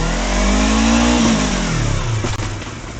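Motorcycle engine revving close up during a DIY quickshifter and downshifter test, rising to a strained pitch in gear, then falling back and settling toward idle, loud and steady, with no talk.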